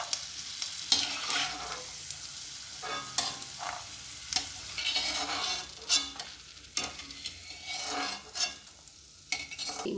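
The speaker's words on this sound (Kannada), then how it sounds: "ಕಡಲೆಕಾಯಿ ಬೀಜ ಚೆನ್ನಾಗಿ ಸಿಡಿದಿದೆ, ಥರ ಓಪನ್ ಆಗ್ತಾಯಿದೆ." Peanuts frying in hot oil in a pan for onion chitranna, a steady sizzle broken by repeated scraping strokes of a spoon stirring them, close and fairly loud with no talking.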